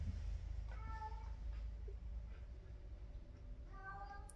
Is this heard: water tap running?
no